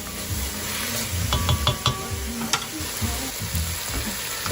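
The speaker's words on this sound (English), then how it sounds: "As you sweat out the onions and the celery and the carrots, it releases liquid" Onions, celery and carrots sweat and sizzle in a stew pot, a steady close frying hiss broken by a few scraping stirs and light clinks of a utensil against the pot.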